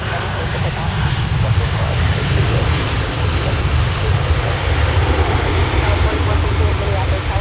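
An airliner takes off from runway 17 at Minneapolis airport, a loud, steady roar of jet engines filling the whole clip, with radio-style voices faintly underneath.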